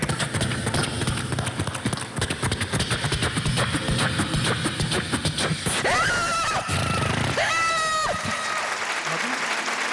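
A voice imitates a horse, with mouth-made clip-clop hoof rhythms under loud crowd noise and applause, then two rising-falling whinny cries near the end, close and forceful.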